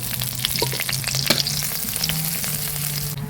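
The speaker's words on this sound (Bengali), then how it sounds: "প্রথমে পেঁয়াজ মরিচগুলো ভেজে নেব" Onions and chillies fry in a pan for Bengali patol peel vorta in a village kitchen, a steady close sizzle with light stirring scrapes throughout, no voices.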